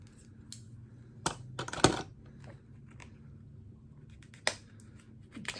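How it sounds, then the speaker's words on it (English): Tape-sealed eyeshadow palette package being pried open: scattered sharp clicks and crinkly snaps of tape and cardboard, with a louder cluster of tearing near the start and another sharp pull later, over a low steady room hum. "Let me open it. It's got sealed with tape."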